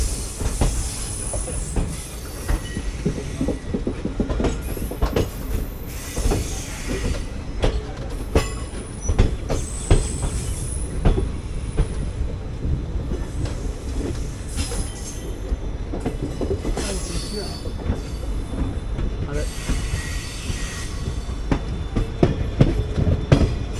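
A passenger train hauled by a WDP 4D diesel locomotive rolls along the tracks toward Tiruchirappalli Junction, with continuous rumbling, clattering wheels and occasional high squeals, heard close for the whole stretch without speech.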